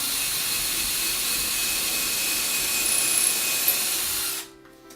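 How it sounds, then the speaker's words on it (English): A power drill boring a pilot hole into wood during a wall repair, a steady loud whirring grind that runs without a break for about four seconds, then cuts off abruptly into near silence. "So what I'm doing is taking a drill first"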